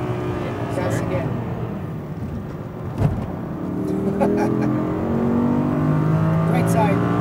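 An Audi R8 V10 RWD engine drones and builds as the car accelerates around a race track, a sustained rising roar from inside the cabin with a sharp thump partway through.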